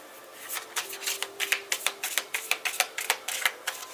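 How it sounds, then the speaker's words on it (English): Tarot cards are shuffled by hand in quick riffling bursts, a rapid series of crisp, close flicking snaps that speed into an even rhythm over a few seconds. "Three shuffles."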